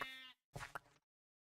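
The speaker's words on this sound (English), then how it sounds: "I thought I saw another sheep." A sheep bleats twice in quick succession, close and loud: a long wavering bleat followed by a shorter, broken one, then silence.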